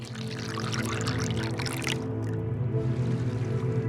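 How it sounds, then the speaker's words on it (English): Liquid pours into water in the video game Yume Nikki, a steady splashing pour for about two seconds over a constant low synth drone, then the music carries on alone. "Okay, so we pour the blood into the water."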